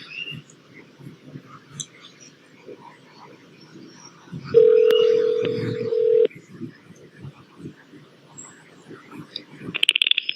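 A phone call is placed from a quiet room; faint clicks and keypad sounds, then a steady electronic tone for about two seconds, with soft background murmur and small handling noises.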